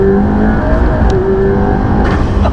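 A McLaren P1 engine running loud and close, a dense steady mechanical roar with slight revving swells over a few seconds, no voices.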